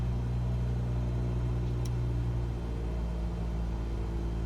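An aircraft engine in the Microsoft Flight Simulator game holds a run-up at 1800 RPM, a steady, even low drone that fills the whole clip without change.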